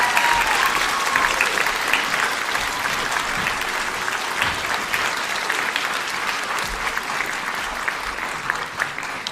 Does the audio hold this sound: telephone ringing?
no